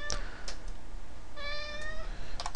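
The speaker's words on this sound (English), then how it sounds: "Uh-oh, kitten's awake. I can hear her meowing." A kitten meows several times over about two seconds, fairly close, with a quiet background hum and faint keyboard-like clicks; no one talks.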